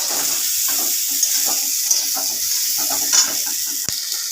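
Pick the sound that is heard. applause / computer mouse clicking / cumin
cumin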